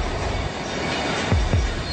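Runaway train of 307 tons bearing down on a platform, a low rumbling rush of rail noise with two short wheel clunks or squeals near the end.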